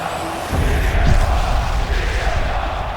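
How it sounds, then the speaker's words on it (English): Crowd roaring and cheering in a wrestling video game arena, a dense wash of voices swelling after a brief quieter start and holding loud throughout. "what a crowd we have here"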